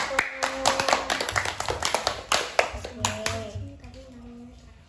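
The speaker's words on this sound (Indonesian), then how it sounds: "beri tepuk tangan untuk kelompok 1" Children in a classroom clapping for a group, a quick run of loud, uneven hand claps that thin out and fade, with children's voices mixed in.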